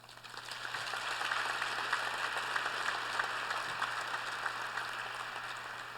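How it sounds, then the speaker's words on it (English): Sustained applause from an audience at a college scholars luncheon, a broad even clatter of many hands that swells in and holds steady, heard from a moderate distance. "You all deserve a round of applause."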